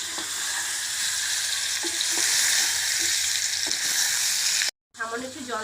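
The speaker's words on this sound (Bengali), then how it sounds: "এখন আমি সিদ্ধ করা আমটাকে দিয়ে দেব। দিয়ে ভালো করে নেড়ে চেড়ে আমটা তেলের সঙ্গে" Boiled mango pieces sizzle and fry in hot oil as they are stirred, a steady loud crackle with occasional scraping strokes, broken by a short silent cut near the end before the sizzling returns with a brief voice over it.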